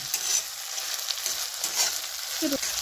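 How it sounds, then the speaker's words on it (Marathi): Crushed ginger, garlic and green chili sauté in hot oil with browned onion and curry leaves for vada pav filling, a steady close sizzle with light stirring scrapes of a spoon in the pan. "आलं, लसूण, मिरची ठेचलेला टाकून घेते आणि परतून घेते"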